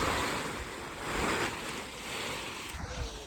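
Wind blowing across an open farm field, a steady broadband rush that swells and eases in gentle gusts throughout, with no voices.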